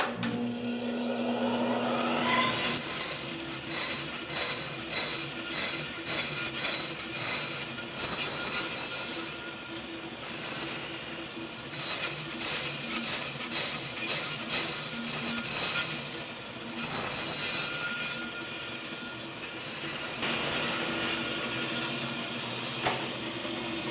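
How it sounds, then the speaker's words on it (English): Relief cuts for a hand-cut dovetail joint in wood produce a close, steady run of rhythmic rasping strokes, with brief pauses between bursts and no talk. "I just make a whole bunch of relief cuts."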